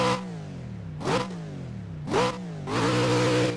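Nissan Onevia engine revving in Assetto Corsa on the Fujimi Kaido track, three sharp blips swelling out of a steady idle, the last rev held longer, with no talking.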